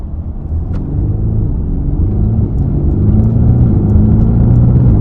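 A Mercedes-AMG GT Black Series engine rumbles and idles steadily close by after a breakdown, its low drone rising slightly as it revs gently; no one speaks.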